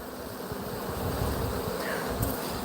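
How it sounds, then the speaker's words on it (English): A swarm of leaf-carrying bees buzzes as a dense, continuous drone mixed with outdoor wind noise, with no talking. "what's that buzzing sound? And it was this swarm."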